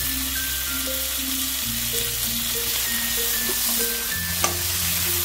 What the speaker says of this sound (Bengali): এবারে আমি একটা বড় সাইজের টমেটো কেটে রেখেছি, সেই টমেটোটাকে দিয়ে দিলাম।